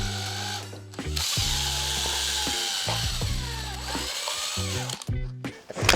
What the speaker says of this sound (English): Okay, so drilled into the ceiling.